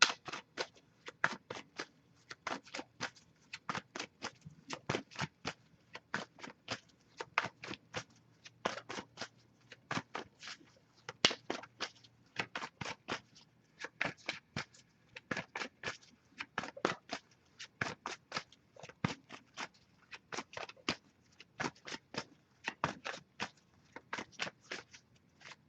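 Repeated crisp riffling bursts of a tarot deck being shuffled, dozens of quick rapid flutters in a steady rhythm, close and fairly quiet with no talk.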